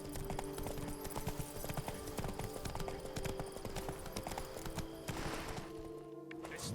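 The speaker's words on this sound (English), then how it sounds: "Whoa there, Roach" Horse hooves clip-clop steadily on the ground in the video game Witcher 3, a close and continuous rhythmic trot that slows near the end, with no talk.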